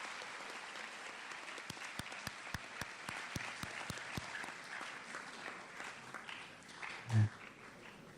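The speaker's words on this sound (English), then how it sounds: "So let's give Lilia another round of applause." A modest audience claps at a school concussion awareness event, faint and somewhat distant, with a run of sharper individual claps early on and a dull thump near the end.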